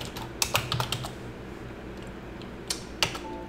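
Typing on a computer keyboard: a short flurry of crisp key clicks, a pause, then a few more isolated taps, close and quiet with no talking.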